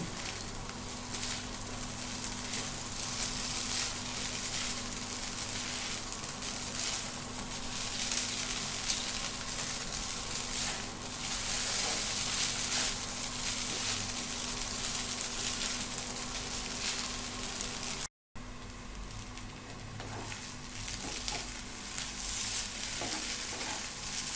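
Maggi noodles mixed with spices fry in a pan with a steady, dense sizzle and crackle that runs unbroken for a long stretch, broken only by a momentary dropout, close and fairly loud with no voices.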